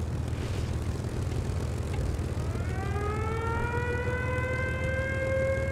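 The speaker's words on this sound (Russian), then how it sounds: "Мне не нравится эта сирена." A rising siren wails in a flight video game, climbing steadily in pitch over a constant, loud drone of aircraft engines, with no talking.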